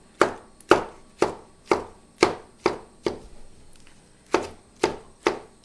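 Kitchen knife chopping tomatoes on a cutting board: eleven sharp, even chops in a steady rhythm with a short pause before the last three, close and clear with no talking.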